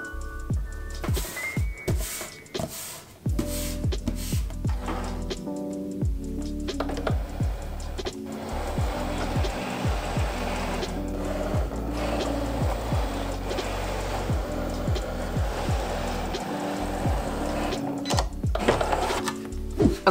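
A Cricut cutting machine runs while cutting shapes from material on a mat, with a close mechanical whir and a busy stream of clicking and tapping, rhythmic motor movement throughout.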